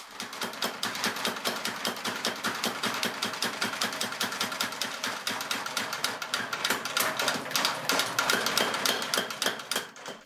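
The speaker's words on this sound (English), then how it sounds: "He uses the belt hammer to strike and stretch it thinly." A power belt hammer pounds steel while forging a knife blade, rapid, steady mechanical strikes, continuous and loud for the whole stretch with a slight surge toward the end.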